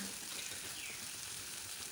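Ground spices, turmeric and cumin powder, frying in hot oil for a sour fish curry, giving a steady close sizzle and hiss that stays even throughout.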